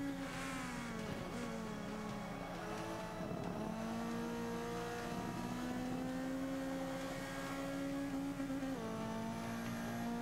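A race car engine in the video game Forza 5, droning steadily at high revs and nearing its top speed. Pitch shifts slightly with gear changes and corner exits, loud and continuous with no talk.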